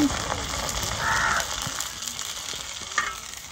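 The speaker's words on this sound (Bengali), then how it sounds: "আজকে ফারজানা ফুচকাগুলো ভেজে নিচ্ছে" Fuchka puris fry in hot oil, giving a continuous, fairly soft sizzle and bubbling with a few faint clinks, while crows caw in the background.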